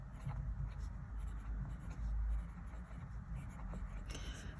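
A Diplomat Aero fountain pen with a medium nib and Herbin ink scratches softly and continuously across paper, close but quiet over a low room hum.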